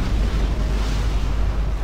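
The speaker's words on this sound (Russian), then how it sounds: "вот взрыв пошел, гляньте, какой взрыв" Explosion in the military strategy game Wargame: European Escalation, a loud continuous rumbling blast with heavy low-end roar that fills the whole moment without any talking.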